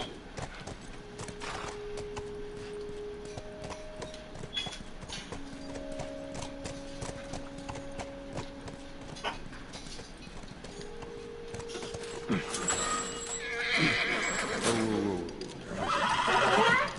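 Video game audio from The Last of Us: hooves clip-clop steadily over soft sustained tones, and a horse whinnies loudly near the end.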